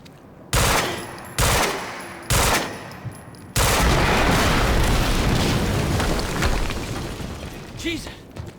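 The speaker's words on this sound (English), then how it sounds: "HQ, we just heard an explosion near the harvesting perimeter." Gunfire and an explosion in the video game Quantum Break: four sharp, heavy bursts arrive about a second apart. A sustained loud roaring blast follows and slowly tapers off, all close and dominant.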